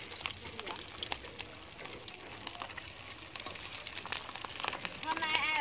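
Mixed skewers fry in a pot of hot oil, a crackling, popping sizzle that grows busier toward the end, with voices talking nearby.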